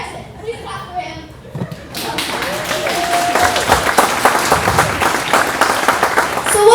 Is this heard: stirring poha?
no